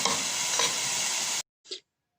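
Ground meat browning in a hot pan for lasagna, with a loud, steady sizzle and frying hiss while it is stirred, which cuts off abruptly and is followed by one brief soft scrape.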